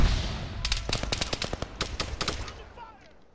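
Gunfire in the video game Arma 3: a rapid run of sharp shots in uneven bursts, fairly close and loud, with a lingering rumble as the shooting fades toward the end.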